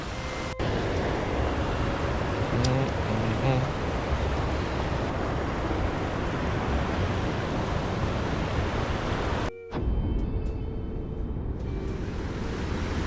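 A dangerous waterfall in Minnesota roars as a steady, dense wash of rushing water, loud and unbroken for the whole stretch apart from one very short dropout near the end.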